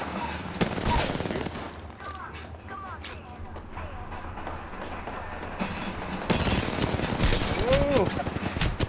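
Video game gunfire rattles in bursts of rapid shots over a busy, rumbling game soundscape, with louder volleys toward the end.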